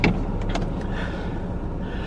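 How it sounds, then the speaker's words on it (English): A car pulls away on a cold day, its low engine rumble steady and close throughout, with a faint mechanical whir near the start. "I need to get this car moving."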